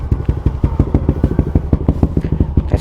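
A Yamaha Aerox 215cc scooter engine runs close by with a rapid, throbbing exhaust pulse, loud and steady throughout with slight surges, no voices over it.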